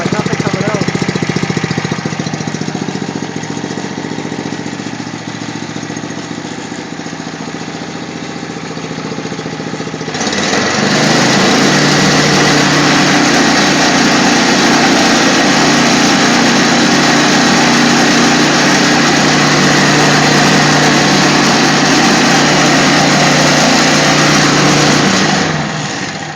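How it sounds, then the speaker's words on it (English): A Toro 724 snow blower engine runs loud and close, a buzzy small-engine drone that rises to a higher, steadier roar partway through and holds to the end. "Sounds like a brand new motor to me."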